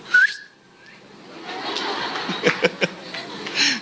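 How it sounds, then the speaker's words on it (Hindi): A congregation at a church service whistles, a sharp rising whistle at the start followed by scattered whistles, chuckles and crowd noise, with faint talk mixed in. "आप लोग सीटियां क्यों मारते हो भाई?"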